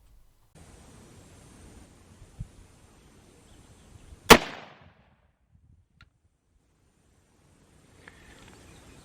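A single sharp, loud gunshot from an SSP-91 Lone Eagle hunting handgun cracks out close by, ringing briefly after quiet handling rustle, then near silence with faint clicks.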